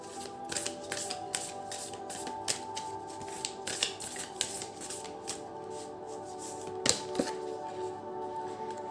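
Tarot cards shuffled by hand give a run of crisp, close clicks and riffles at an irregular rhythm, with one louder snap near the end.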